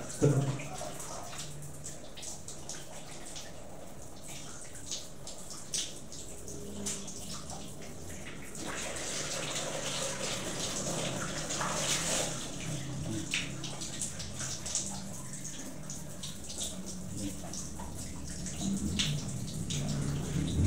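A pressure shower head sprays water in a home bathroom, a steady low hiss of falling water with scattered splashes and drips, and faint voices now and then.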